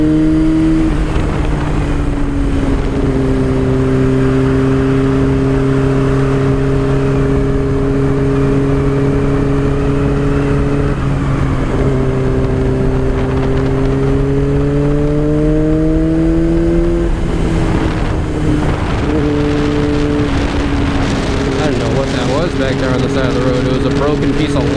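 Car engine pulling hard through fast mountain-road turns on the Blue Ridge Parkway in North Carolina during a motor meetup, a steady in-cabin drone that rises and falls in pitch with each acceleration, continuous throughout.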